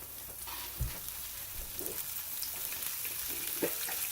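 Green beans frying in olive oil in a pan, a quiet steady sizzle with a few soft knocks and stirring scrapes close by.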